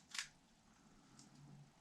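A Fujica 36EE rangefinder film camera fires its shutter in one quiet, sharp click near the start, followed by a softer faint mechanical tick, close by in a quiet room.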